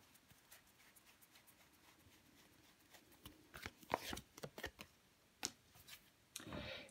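Tarot cards handled and laid out on a table, a quiet run of soft ticks and shuffling slaps that gets busier and louder toward the end, with no voice over it.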